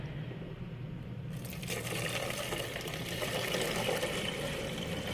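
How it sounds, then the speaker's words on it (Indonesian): About a litre of rice-washing water being poured into a container: a faint, low wash that swells into a fuller, continuous splashing pour partway through. "Sekarang kita masukkan air cucian berasnya."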